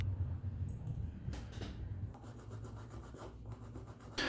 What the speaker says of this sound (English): I'll just roughen up the surface, add a drop of CA glue